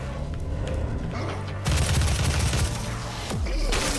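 Heavy weapons firing in the video game Doom: loud, dense bursts of gunfire and booms that jump in volume partway through and keep up as a steady barrage with no talk.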